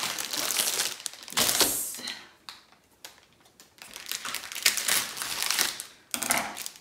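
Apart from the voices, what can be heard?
crinkling plastic bags from a LEGO set being unboxed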